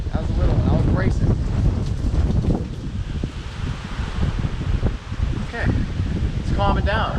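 Hurricane Zeta wind gusts roar and buffet the microphone in a loud, continuous rush with rustling, steady throughout with only slight dips in strength.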